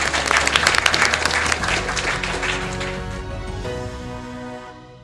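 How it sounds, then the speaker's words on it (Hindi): A room of children gives Anushka a burst of applause, dense clapping that starts strong and gradually thins out and fades over several seconds. "तो दोस्तों, हो जाए अनुष्का के लिए जोरदार तालियां।"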